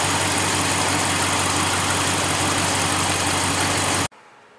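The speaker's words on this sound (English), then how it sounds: "while you're waiting for the engine to warm up" A 5.7L Hemi V8 engine in a 2015 Dodge Ram 1500 pickup idles while warming up with a steady, even rumble and hum, then abruptly cuts out near the end, leaving faint background noise.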